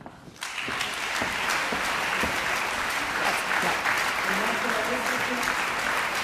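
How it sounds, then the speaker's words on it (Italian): Festival audience at a Romansh song composition contest bursting into loud, sustained applause that rises quickly and holds steady, with some crowd voices mixed in. "Applaus"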